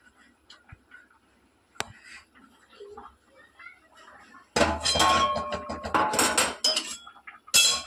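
Rohu fish curry (kalia) pot being lifted off a kitchen stove: faint handling at first, then loud metallic clanks and scraping of the pot near the end.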